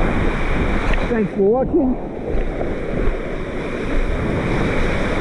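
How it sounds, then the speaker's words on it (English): Ocean waves break on a surf beach in a constant roaring wash with wind buffeting the microphone, and a person briefly speaks over it. "Looks like there's some nice waves on the beach"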